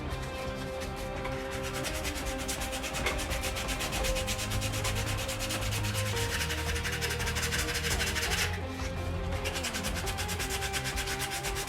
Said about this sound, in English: I'm going to start off with the cross guard and work my way down using the same really rough sandpaper